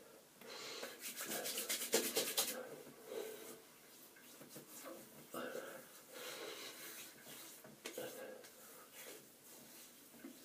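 Nivea for Men Sensitive moisturizer is rubbed into freshly shaved skin, making faint, close scrubbing and swishing strokes in uneven bursts against a quiet background.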